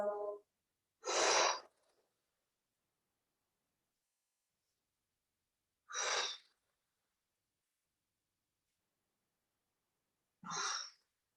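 Three slow, deliberate exhales during a yoga hip-opening stretch, each a breathy whoosh separated by long silent gaps, close and clear, after a brief snippet of a voice.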